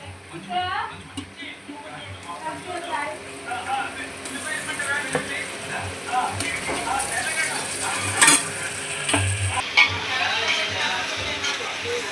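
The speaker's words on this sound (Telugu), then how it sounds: "ఇవి చేప ముక్కలన్నీ వేపేసుకున్న తర్వాత ఒకసారి ఇలా ఫ్రై చేసుకుందాం" Fish pieces fry in a pan with a soft, steady sizzle and occasional stirring clicks, while a person talks over it throughout.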